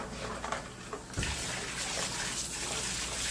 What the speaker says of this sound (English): They've been soaking in Dawn dish soap, and I'll just rinse them off.